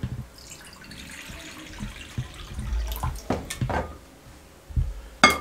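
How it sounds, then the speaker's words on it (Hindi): Water is poured and splashes into a bowl holding metal kulfi moulds, with uneven gushes and a few sharp clinks of metal near the end. "पानी के अंदर थोड़ा सा पानी और डाल देंगे ताकि ये अपना जो सांचा है उसको छोड़ दें इस तरीके से।"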